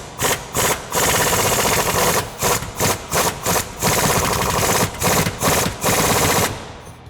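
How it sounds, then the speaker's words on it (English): Bolt driven into a nut plate with a 21mm socket on an impact gun during a Jeep Wrangler JL suspension lift, loud rattling bursts in quick repeated runs, close up, with no talking. "we can tighten that down with our 21mm socket"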